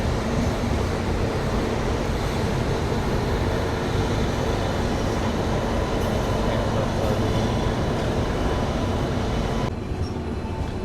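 Express train running on the 12840 MGR Chennai Central to Howrah Mail service: a loud, steady rumble of wheels and carriages rolling continuously, dense and close, with the roar dropping slightly near the very end.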